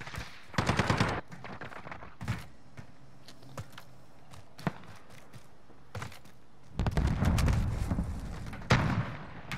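Warzone Rebirth gunfire comes in bursts of rapid automatic shots, loud and close, separated by quieter gaps with scattered single shots and a long heavy burst near the end.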